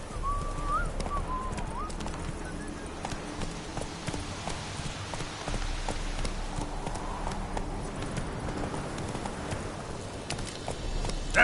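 In The Witcher 3: Wild Hunt, a game horse gallops with steady, rapid hoof clip-clops that run through the whole stretch. Faint game ambience and a brief whistle-like tone sit underneath the hoofbeats.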